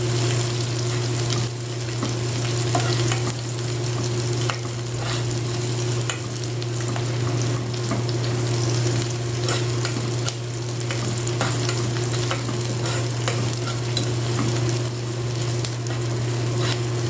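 Chopped onion fries in a pan for corned beef with cabbage, giving a steady, close hiss of sizzling oil with occasional stirring scrapes over a low hum, and no one talks.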